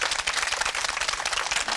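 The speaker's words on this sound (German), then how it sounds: "Ihr Applaus." A TV studio audience claps for a Vespa restorer, with brief, dense, continuous applause that stays even and fairly loud.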